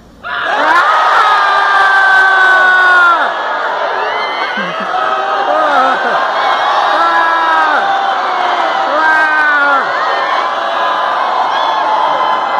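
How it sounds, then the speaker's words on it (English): A large audience at a concert in Toronto's Massey Hall screams and cheers together, a loud sustained roar of many voices that swells at the start, then tapers into scattered whoops and yells. "That was sort of an initial, very polite, scream, and then taper off"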